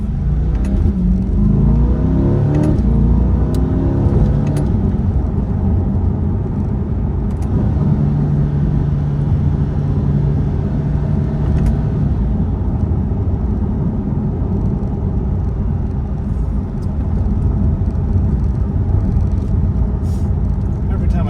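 Deep, steady engine and exhaust rumble from a 2020 Chevrolet Corvette Z51 on the move, loud and continuous throughout, with a faint voice occasionally audible beneath it.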